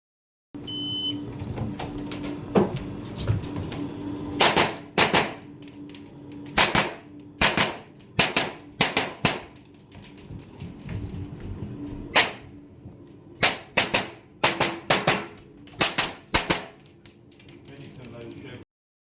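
Gunshots on a practical shooting championship stage at an indoor shooting centre, fired in dark conditions: rapid sharp cracks in quick clusters with short gaps, mostly strings of several shots, over faint background murmur.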